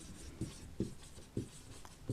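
Writing on a board during a biology lecture, soft scratchy strokes with four distinct taps of the marker or chalk at a steady rhythm, faint and close with no talking.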